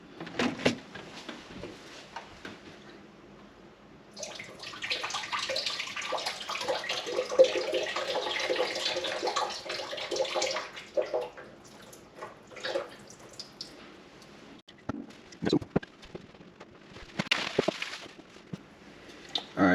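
Tap water pours steadily into a plastic-lidded sprouting jar for rinsing, a close, continuous splashing rush lasting several seconds, then trickles, drips and handling clatter as it is swirled and drained, with no talking.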